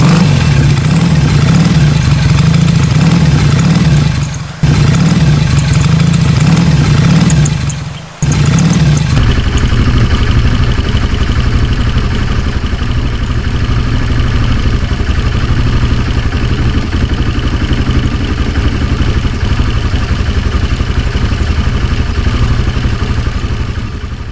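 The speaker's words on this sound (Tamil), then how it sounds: "ஜாவா வண்டியோட போட்டோ எடுத்ததுக்கு அப்புறம் அந்த வண்டியை ஓட்டி பார்க்கலன்னா எப்படி, அதனால டெஸ்ட் டிரைவ்" A Jawa motorcycle engine runs on a test drive, a loud, close, throbbing drone with a couple of brief dips as the throttle eases, then settling into a steadier rumble with no talking.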